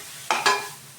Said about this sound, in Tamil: சீவி வச்ச பூசணிக்காயை எடுத்து வானலில் போட்டு நல்லா வதக்கணும்.